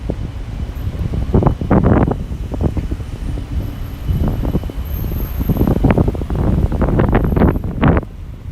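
Wind buffets the microphone during a spring walk along a Chicago city street in Uptown near Broadway and Wilson. The rumble is loud and continuous, with gusts rising and falling and faint street noise beneath.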